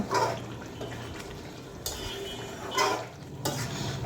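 A spoon stirs and scrapes through duck curry being fried down with roasted cumin powder, giving soft bursts of scraping and clinks over a low, steady sizzle, close by and with no talking.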